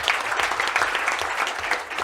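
An audience at a board-of-directors inauguration ceremony applauds during a speech. A full room of hands claps briskly and steadily, close and lively, throughout the moment.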